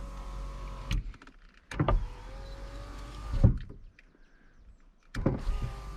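Rear electric window motor in a Mercedes 190E runs in three separate whirring bursts of about a second each, with short clicks between them and steady cabin hum underneath; no talking.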